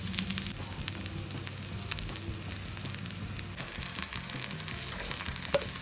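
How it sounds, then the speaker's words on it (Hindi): Matar paneer seekh kababs frying in a pan over a slow flame give a soft, continuous close sizzle with faint crackles and occasional light knocks, steady and low in level, with no talking. "इसको आप बिल्कुल स्लो फ्लेम पे आप इसको फ्राई कीजिए"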